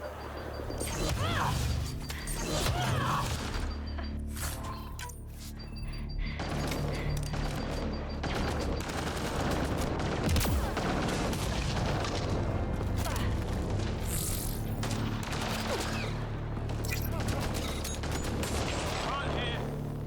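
Gunfire in a video game shootout: dense, continuous bursts of shots and heavy impacts go on throughout, loud and busy, with scattered crashes and a voice talking over the action.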